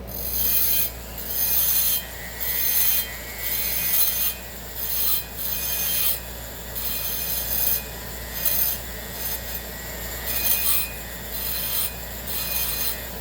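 Grinding through the nickel plating inside a port of a 4910 cylinder makes close, rhythmic abrasive strokes. Short rasping bursts repeat about every second, with brief pauses between them, and no talking.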